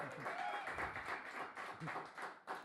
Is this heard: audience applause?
yes